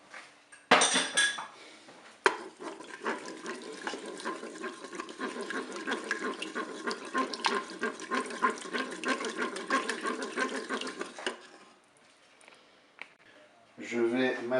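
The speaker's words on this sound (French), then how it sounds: "On va ajouter la crème fraîche. On va mélanger tout ça." Crème fraîche being mixed into endives in a Cookeo pressure cooker pot: continuous scraping and clinking of a utensil against the pot for about ten seconds, moderately loud and close, with a sharp knock near the start and a pause before a final clatter.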